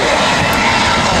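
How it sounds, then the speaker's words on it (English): A large FedEx cargo plane roars loudly overhead on approach into Lindbergh Field in San Diego, a dense, continuous engine rumble filling the whole moment. "another FedEx cargo coming into Lindbergh Field"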